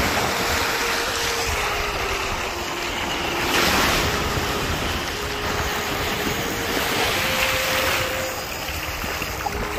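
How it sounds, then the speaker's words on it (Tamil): Gentle sea waves wash in and out on a shore at a hook-fishing spot, making a steady, continuous roar mixed with wind buffeting the microphone, with no voices. "இந்த இடத்துல கடலும் வந்து பெருசாக அடியண்டு இல்லை, சும்மா நோமலாக பாருங்க தண்ணி வந்து போகுது"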